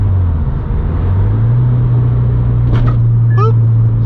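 A car with flared fenders drives over bumps: a steady low engine and road drone fills the cabin, with a couple of brief, chirpy vocal sounds near the end.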